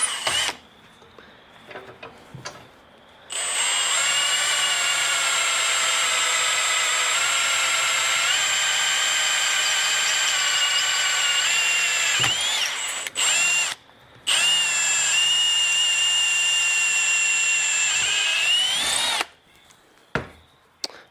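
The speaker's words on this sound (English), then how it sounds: "it's pretty handy if you need to drill holes all the way through or through just one side of a round tube" A power drill whines at a steady pitch as it bores holes through round metal tubing, running in two long stretches with a short pause between them.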